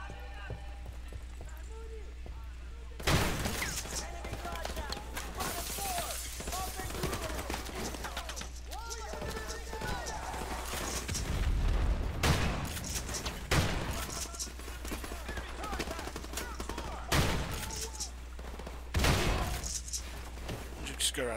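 Bursts of gunfire and loud impacts from Modern Warfare Remastered break out repeatedly over a constant low hum, with sharp volleys spaced through the scene and in-game voices in the mix.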